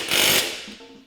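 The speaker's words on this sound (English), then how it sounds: "we can go ahead and tighten them in an X pattern" Lug nuts on a Polaris RZR portal gear lift being tightened with a power tool, giving a loud burst of rapid mechanical ratcheting that fades into quieter clicks and taps.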